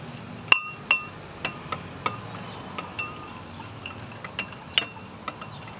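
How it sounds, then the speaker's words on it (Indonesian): A spoon clinks against a glass while stirring honey cough syrup into warm water, giving a dozen sharp, irregular taps over a quiet background. "Nah, kita aduk sampai merata."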